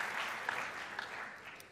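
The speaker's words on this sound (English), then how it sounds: "A big round of applause for the Spanish factory." Audience applause at the 2022 MotoGP Awards for the GasGas Moto3 factory team, a steady dense wash of many hands clapping throughout, fairly loud and even with no talk over it.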